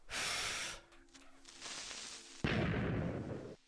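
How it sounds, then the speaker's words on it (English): The old creeper explosion from the video game Minecraft plays as a few noisy broadband blasts of crackling, hissing burst, each cutting off abruptly, fairly loud and heard alone without speech. "if you remember the old explosion sound, then you are a Minecraft veteran. Take a listen."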